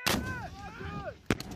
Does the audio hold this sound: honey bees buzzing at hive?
no